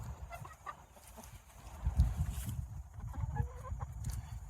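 Backyard chickens, some molting with feathers regrowing, cluck and murmur at a low level nearby, with soft scattered calls and rustling and no one speaking.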